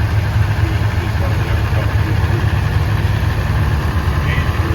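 A 1206 tractor idles at an Oliver summer threshing show in Madison, South Dakota, its engine running as a steady, loud, low rumble close by without a break.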